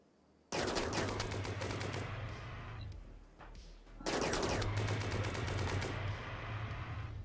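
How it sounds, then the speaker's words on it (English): Charge rifle gunfire in Rimworld, two long rapid bursts of crackling automatic fire separated by a brief lull, loud and close with no voices. "Yo, charge rifle is fucking amazing."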